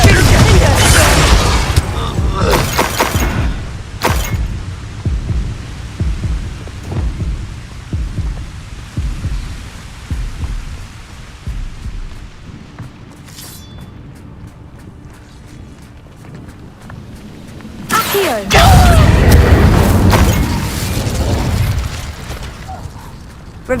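Spell blasts, Confringo among them, go off in a video game: loud bursts come in a quick cluster at the start, fade into a quieter stretch, then a strong blast returns near the end.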